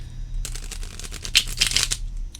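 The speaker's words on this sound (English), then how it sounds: "I will stop bitching, and then I will shuffle." A Tarot of the Owls card deck is riffle-shuffled close by, a quick burst of crisp flapping card clicks rising to a rapid flutter and ending abruptly over a low background hum.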